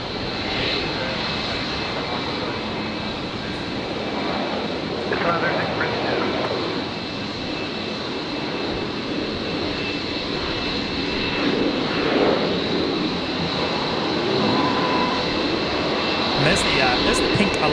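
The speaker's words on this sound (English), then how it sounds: "there's the pink Alliance Fokker 70 heading back out as well" A pink Alliance Fokker 70 taxis out at Brisbane Airport, its jet engines a steady, loud broadband roar with a sustained whine, while a voice talks over the top.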